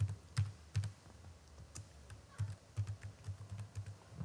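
Soft keystrokes on a computer keyboard as a place name is typed, a few scattered taps then quicker irregular clusters of close, quiet clicks over faint room noise.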